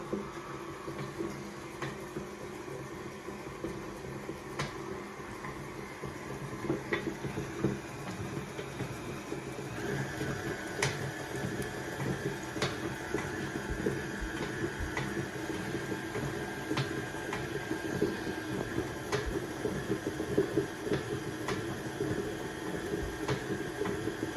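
Ginger cookie batter with molasses is mixed slowly, giving a steady, even whirring drone with faint periodic ticks that runs throughout without any talk.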